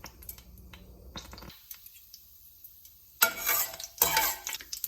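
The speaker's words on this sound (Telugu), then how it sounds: "1 స్పూన్ జీలకర్ర, 1 స్పూన్ పచ్చిపప్పు వేయించుకోవాలి." Cumin seeds, mustard seeds and chana dal roasting in hot oil in a pan, brief crackles and sizzles with a few spoon clinks against the pan, quiet stretches between bursts.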